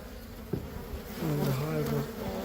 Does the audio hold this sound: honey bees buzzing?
yes